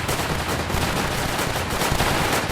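Dense, continuous gunfire from the tower defense game Northend Tower Defense, rapid overlapping shots forming a steady loud barrage with no pauses across the whole stretch.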